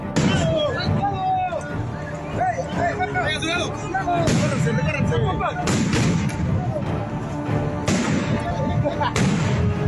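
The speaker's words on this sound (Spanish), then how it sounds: "Encapuchados comenzaron a lanzar petardos al portón del cuartel." Loud firecracker bangs burst out in an irregular run, sharp and close, thrown at a barracks gate by hooded protesters, over a noisy crowd with shouting voices throughout.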